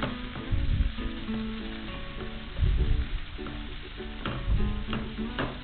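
Sliced onion and garlic fry in a pan while being stirred, a steady sizzle with louder bursts of scraping and stirring, close and continuous, with no talking.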